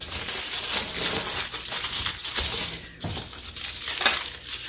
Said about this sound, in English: make myself a little pan by taking 2 pieces of aluminum foil, about the same size.